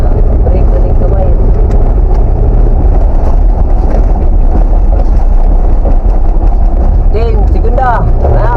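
Engine of a manual Nissan Lancer while driving in second gear, a steady low drone with road and wind noise throughout, and a voice talks over it near the end.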